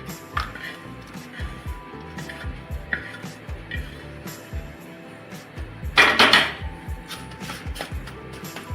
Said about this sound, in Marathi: इथे मी ताटाला तेल लावून घेतलेलं आहे आता हे आपल्याला याच्यामध्ये ओतून घ्यायचं